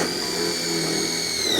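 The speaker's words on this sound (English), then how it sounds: "we'll go ahead and put the top screw in here as well" A power drill drives a self-tapping screw into the frame of a Farmers Friend 2025 Haven high tunnel, making a brief, steady motor whine at moderate volume with no talk.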